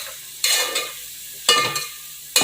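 A spatula sweeps through spiced masala for chicken biryani frying in a pan, giving three scraping strokes at a steady pace over a soft, continuous sizzle.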